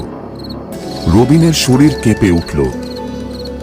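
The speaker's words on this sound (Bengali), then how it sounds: "ঝিঝি পোকার ডাক" Crickets chirp steadily beside a pond on a dark, foggy night while a voice narrates over them.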